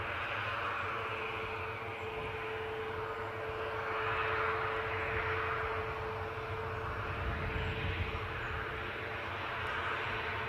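Fixed-wing airliner taking off at Newcastle airport, heard as a steady, distant jet engine roar that swells slightly mid-way and holds for about ten seconds, with no talk.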